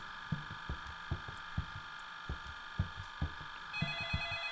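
A telephone rings in the main bedroom of a home, its steady electronic tone sounding continuously and faintly beneath a string of soft, regular thumps; no one speaks.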